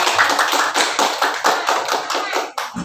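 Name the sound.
audience applause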